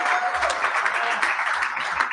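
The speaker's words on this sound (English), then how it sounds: "And give ourselves some applause" Audience applause at the Ringo Awards comic-book awards ceremony, a brief dense wash of many hands clapping, steady and fairly loud throughout.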